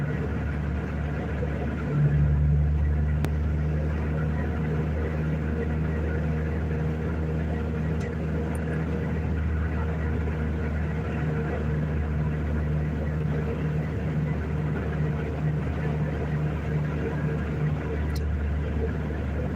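A car engine rumbles low and steady while driving, a continuous deep drone with a constant hum close by, no talking.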